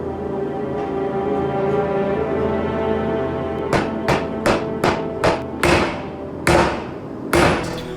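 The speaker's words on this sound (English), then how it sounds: "I can start trying to forge it out into a nice billet to make it easier to forge the hatchet shape" Hammer forging a steel billet from a coil spring: a steady background hum, then about nine sharp metallic strikes at a loose, irregular rhythm, close and loud.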